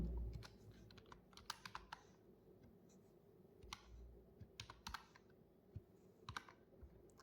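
Quiet, steady typing on a computer keyboard while writing Python code, a stream of soft irregular key clicks with occasional sharper taps and no talk.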